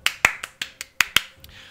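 Seven sharp, quick hand claps, loud and close in a brisk even rhythm, with a fainter eighth at the end and no talking.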